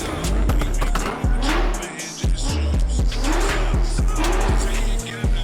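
Car engine revving hard with repeated tire squeals and skids, loud and close, in a fast driving sequence with rhythmic bursts.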